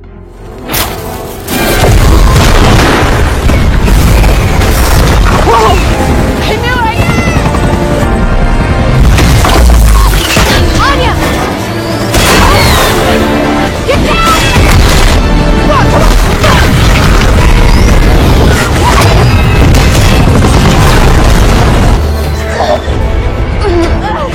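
Firecrackers set off as loud booming bangs and crashes burst repeatedly amid a chaotic, dense mix of whooshes and thuds, nearly continuous throughout.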